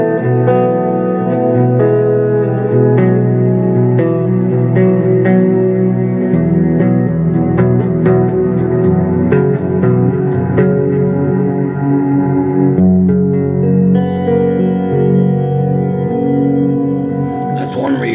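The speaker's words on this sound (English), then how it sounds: "Hit it again, it turns off one of the reverbs." A sustained instrument plays held tones through a reverb pedal, drenched in reverb, notes blurring and ringing into one another with a long, washy tail.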